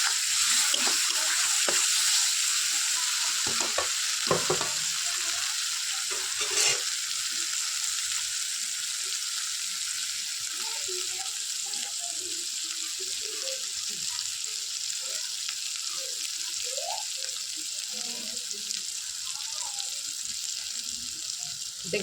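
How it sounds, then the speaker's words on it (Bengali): Spices and tomato frying in a pan for egg curry, a steady close sizzle with scattered spatters and stirring scrapes running throughout, more clatter in the first seconds. "যাতে ওতে মশলার সাথে টমেটোটাও গলে যাবে, ভাজা ভাজাও হয়ে যাবে আর গলেও যাবে"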